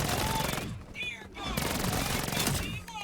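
Sustained automatic gunfire from hipfire shooting in the video game Black Ops 7 Zombies, loud and continuous with a brief dip mid-burst before firing resumes, dense rapid shots over game effects.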